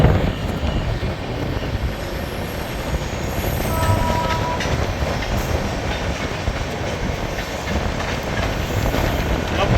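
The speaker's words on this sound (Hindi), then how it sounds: "Rajdhani express versus Mumbai local." Rajdhani Express train running parallel to a Mumbai local train, a steady loud rumble of wheels and carriages with faint squeals and clatter throughout, no talk.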